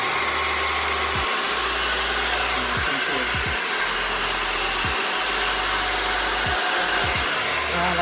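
A hair dryer blows steadily on rebonded hair, a loud continuous whoosh with a few brief dips as it is moved or switched, running alone without talk.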